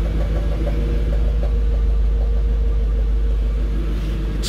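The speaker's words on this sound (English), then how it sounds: "I do remember it's leaking the exhaust on this one." A Mercedes E55 with 154,000 km and an exhaust leak idles with a loud, steady low rumble and a rough, puffing exhaust note, close by with no talking.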